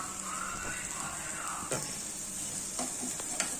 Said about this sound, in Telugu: దోశ కాలుతుంది ఒక టూ మినిట్స్ ఒక ఫైవ్ మినిట్స్ సిమ్లో పెట్టుకొని వేయించుకుంటే ఈ ఆనియన్స్ అవన్నీ వేగుతాయి